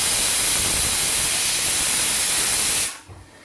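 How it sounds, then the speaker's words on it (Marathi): A pressure cooker vents steam during cooking of a tomato and brinjal vegetable dish, giving a loud, continuous rushing hiss that cuts off abruptly near the end. "आपल्या कुकरच्या आहेत 3 शिट्ट्या झाल्यात"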